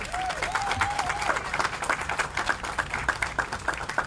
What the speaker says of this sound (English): Let's give the First Lady of San Antonio and all of the wonderful speakers this morning a warm San Antonio round of applause.